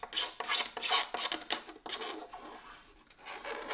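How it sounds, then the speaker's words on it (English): A knife blade scraped repeatedly down the edge of a belt while shaping a curve into it, giving a series of close, raspy strokes with short pauses between them. "I just take my knife, scrape it down"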